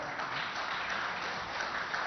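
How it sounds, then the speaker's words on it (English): An audience at a workplace happiness summit and awards event gives a round of applause for the panelists, a steady wash of clapping sustained at an even level for a couple of seconds. "So a big round of applause."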